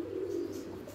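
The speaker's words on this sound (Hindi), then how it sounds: "कबूतर के दाने खिलाई रहे रोटी खिलाई रहे हथा पर कबूतर सारे कट्ठे हो गए" Pigeons gathering to be fed grain and roti on a rooftop in Chakswari, Mirpur, giving a low, steady cooing close by, faint and continuous with no talk.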